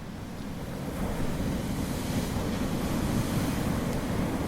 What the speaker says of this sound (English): you can hear the waves crashing all night